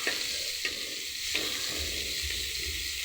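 Close, steady sizzling of papaya pieces frying in oil, punctuated by a few scraping stirs of a spatula in the pan.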